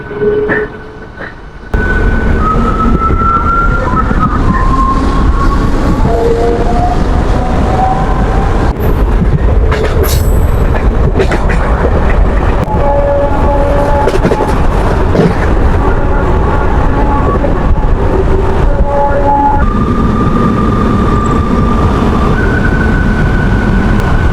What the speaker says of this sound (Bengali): ট্রেন এবার ছেড়ে দিয়েছে